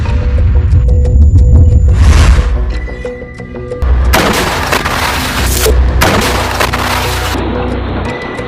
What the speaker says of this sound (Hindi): हमास के लड़ाके दूर खड़े इजरायली टैंक और सैन्य वाहन पर गोले दागते दिख रहे हैं